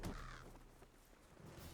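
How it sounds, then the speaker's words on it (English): Crows caw in the fantasy game LOTRO, with a few harsh calls at the start and more cawing later, faint against a quiet game ambience. "I don't know why these birds are so angry."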